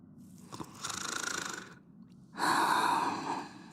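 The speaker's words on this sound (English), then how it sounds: "They really didn't have to make me snore." A character in the video game Honkai: Star Rail snores in two long breathy pulls, each swelling in loudness and separated by a short pause, close and clear with no talk over it.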